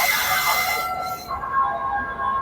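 A Duronto Express train hauled by a WAP-7 electric locomotive rolls past, steady rail noise with metallic wheel squeal and ringing tones, close and continuous throughout.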